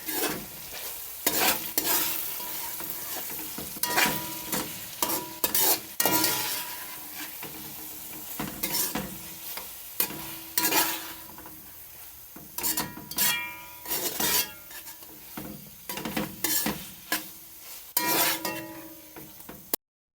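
Macaroni seasoned with black pepper is stirred in a pot for a Jamaican-style macaroni and frankfurter dish, producing repeated scraping strokes in uneven bursts over a soft sizzle, close up with no talk.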